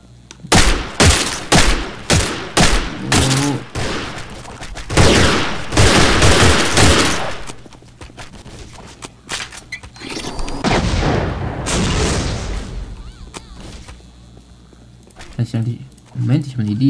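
Loud pistol shots from the shooter game Postal 2 ring out as a rapid string of sharp bangs, followed by longer booming bursts and more firing later, with someone speaking German in between.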